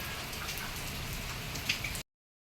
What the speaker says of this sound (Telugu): చూడండి గాయస్ ఇట్లా పడుతుందో వర్షం